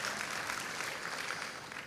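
A church congregation at a worship service claps together in sustained, dense applause that stays steady and fairly loud throughout, with no voices standing out.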